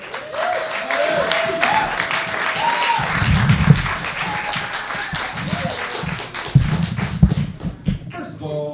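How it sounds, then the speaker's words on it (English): Audience applause for NAJLS, a hip hop and R&B artist and producer from Ohio, fills the room as a steady, dense patter of clapping with crowd murmur, growing heavier with a few louder thumps near the end. "Please give a round of applause to"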